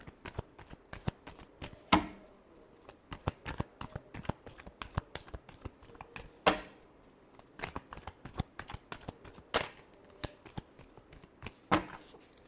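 Tarot cards are shuffled repeatedly in a rapid, crisp riffling rhythm of dense flicks, with a few sharper slaps and bridges standing out, close and alone without talk.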